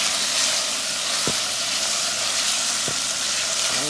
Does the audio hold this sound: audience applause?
no